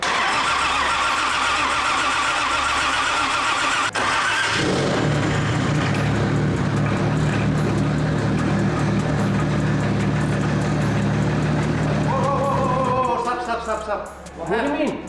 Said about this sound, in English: gonna crank it just so it builds up oil pressure in the system, and then see if it starts